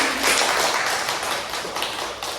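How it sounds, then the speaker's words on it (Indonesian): A classroom of students in a micro-teaching lesson on the properties of light claps together, a loud, continuous patter of many hands that holds steady to the end. "sekarang baru beri tepuk tangan"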